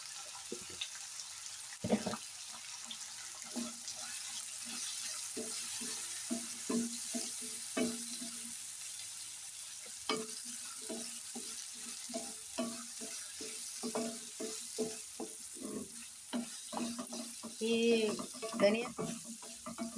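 Green chillies and coconut pieces fry in a pan for a coconut-sesame chutney, a quiet steady hiss broken by many short scraping stirs and taps, growing busier and louder near the end.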